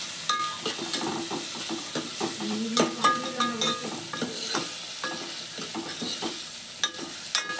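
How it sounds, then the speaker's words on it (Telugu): Ginger paste and turmeric stirred in a hot frying pan, close rhythmic scraping and tapping of a spoon over a soft continuous sizzle. "ఇది ఇంకా గోలే వరకు మంచిగా కలుపుకోవాలి"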